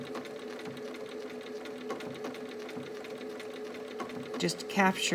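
Sewing machine zigzag stitching over an appliqué twig on a wreath quilt block: a steady, fast mechanical whir close by, with a brief louder burst near the end and talk over it.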